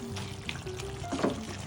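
Beef curry is stirred in a large pot, giving a brief burst of wet scraping and bubbling with one louder clatter near the end.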